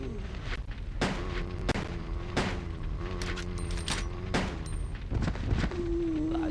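Gunfire in the video game Resident Evil Code Veronica X, a series of loud, sharp shots at irregular intervals over a continuous game soundtrack drone, with no talking.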